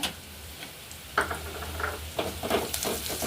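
Tempering spices, curry leaves, green chillies and dry red chillies fry in hot oil with a steady close sizzle, broken by a few scrapes and clinks of a spoon stirring the pan.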